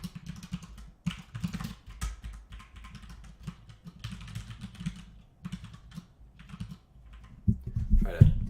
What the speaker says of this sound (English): Try to move the keyboard a little bit. I'm sorry that it's so loud.